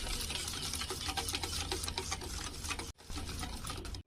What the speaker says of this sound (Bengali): এখানে আমি খেজুরের গুড়টা ব্যবহার করছি, দেখে বুঝতে পারছো এটা খেজুরের গুড়। ঢেলে দিয়েছি, এবার এটা আমি ভালো করে ফেটে নেব।